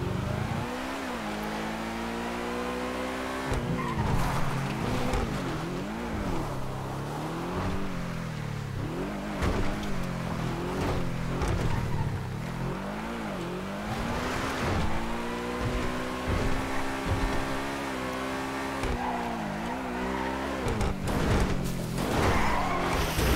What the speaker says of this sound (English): So you skid and hit the bridge there